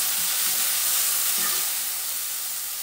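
Onions sauté in a pan for a soya dish, a close, steady hiss of sizzling oil with a couple of soft stirring strokes, brief and uninterrupted by talk.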